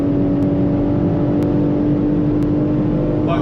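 BMW M3 sedan accelerating hard, a loud, steady in-cabin engine drone with a constant tonal whine and faint regular ticks.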